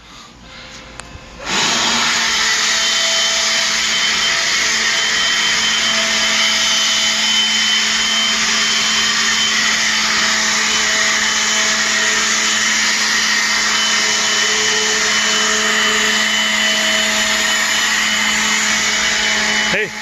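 A Ryobi One+ 18V cordless leaf blower starts after a brief pause and runs as a steady, loud, close whine, blowing sawdust left from barn lumber work.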